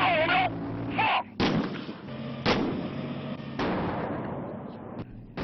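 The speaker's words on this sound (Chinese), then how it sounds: "他在数秒内发射五发炮弹，全部命中目标" A Type 99 main battle tank fires shells during a mechanized military exercise: several heavy, sharp booms in quick succession, each followed by a rumbling decay, moderately distant.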